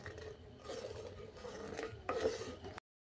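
Spoon stirring powdered lozenge and sugar into a homemade ice cream mixture in a pot, a steady scraping and clinking churn with a few sharper metallic knocks near the end, close and moderately quiet.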